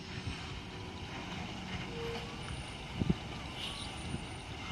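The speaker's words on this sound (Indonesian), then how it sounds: "itu masuk Prima Abadi Euro 4 Super Big Bus" A Prima Abadi Euro 4 Super Big Bus built on a Hino chassis pulls in, its low engine rumble steady and moderately distant with a brief air-brake hiss and light clunks partway through.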